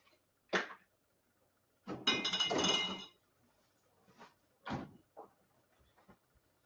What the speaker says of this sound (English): Let me have a glass of water.